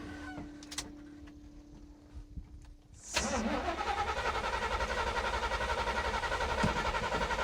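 Engine of a 1977 Chevrolet C-30 square-body tow truck from a junkyard is cranked by its starter, a loud, evenly pulsing churn that begins abruptly after a few quiet seconds of faint background sounds and keeps going without catching.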